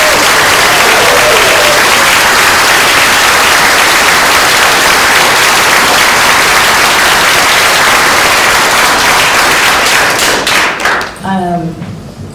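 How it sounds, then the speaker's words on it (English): Audience applause for librarians at a film festival screening, dense sustained clapping from a crowd filling the hall for about eleven seconds before tapering off. "so that we can give you a little applause too"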